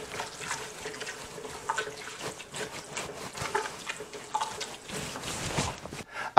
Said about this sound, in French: On va ajouter un peu d'eau aussi